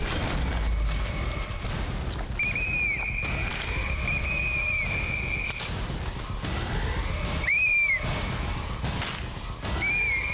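Loud whistle blasts in a forest, several sustained shrill tones and sharp bursts over a dense, noisy background with crashing sounds.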